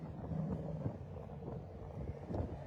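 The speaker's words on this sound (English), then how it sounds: "Winds gusting 20 to 30 miles per hour." Gusty wind at an Interstate 26 rest area at exit 5 in Kingsport, Tennessee, buffeting the microphone as a faint, low, continuous rumble with slight surges.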